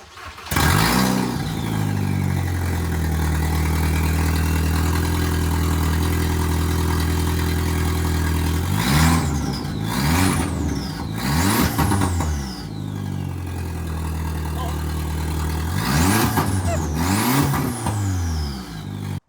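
A VW Golf Mk4 GTI with the 1.8 turbo engine runs straight off the turbo, idling loudly and close, then blipped in several sharp revs that rise and fall, with two more bursts later.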